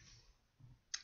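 A single sharp click, close and brief, near the end of an otherwise quiet moment with faint low background noise.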